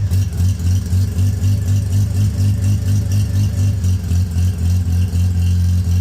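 Cold Dorito engine idling rich before warming up, a steady low, throbbing idle with a slightly uneven pulse, close and loud, running alone with no talk.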